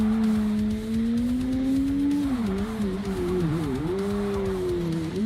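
A car engine in the video game MindsEye hums loudly and steadily, its tone sagging and climbing again as the throttle changes, with no voices over it.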